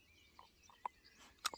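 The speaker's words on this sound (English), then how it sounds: "there's so many varieties of birds here" Several varieties of birds give short, faint chirps and calls outside a cottage in rural Ireland, a handful of brief notes scattered over a quiet background.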